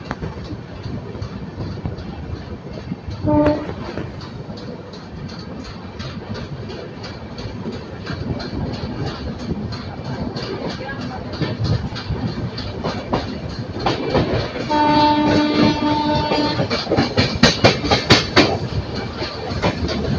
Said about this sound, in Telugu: మన ట్రైన్ స్పీడ్ అందుకుంది